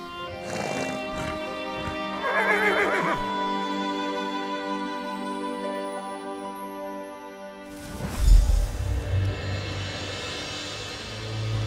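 A horse neighs in the fantasy video game The Elder Scrolls Online, a drawn-out whinny over sustained musical tones, followed by a low rumbling snort or stamp near the end.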